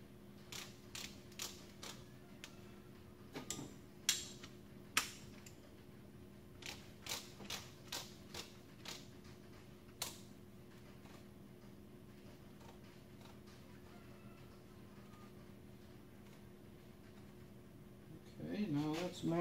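A torque wrench ratchets as bolts are tightened during a brake repair, giving an irregular run of sharp, close mechanical clicks over a low steady hum, with some clicks louder than others.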